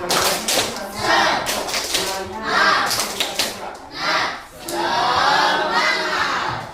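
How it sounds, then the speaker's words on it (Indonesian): A class of students performs a rhythmic clapping chant, sharp group claps in bursts alternating with shouted chanted words from many voices, loud and close in a room. "Tepuk semangat."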